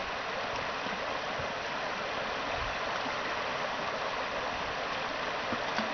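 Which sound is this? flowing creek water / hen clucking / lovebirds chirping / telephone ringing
flowing creek water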